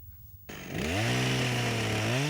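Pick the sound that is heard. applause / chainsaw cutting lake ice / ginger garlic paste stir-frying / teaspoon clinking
chainsaw cutting lake ice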